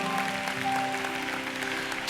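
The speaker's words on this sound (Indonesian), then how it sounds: "Berikan tepuk tangan yang meriah bagi Tuhan kita" A church congregation applauding, a dense, steady wash of clapping from many hands filling a large room, with no voices over it.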